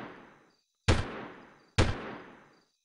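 Three gunshots in the Delta Force 2 video game, each a sharp crack followed by a fading echo, evenly spaced and loud against silence, no talk.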